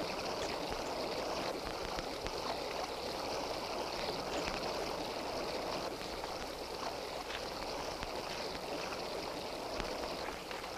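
A river flows steadily past the bank in a continuous broadband wash of running water, moderately loud and unbroken with no talk.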